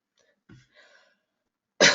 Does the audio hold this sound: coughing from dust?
yes